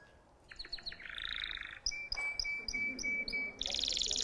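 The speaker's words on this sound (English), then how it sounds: "we learn to listen to the birds." Birds call outdoors in a quick series of bright chirps and tweets, followed by a longer sustained trill and then a sharp, high squawk at the end. The calls sound fairly near and clear, with no talking.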